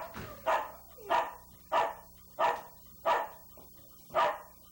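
A dog barks six times in a steady rhythm, each bark sharp and clear at moderate distance, with nothing else heard between them.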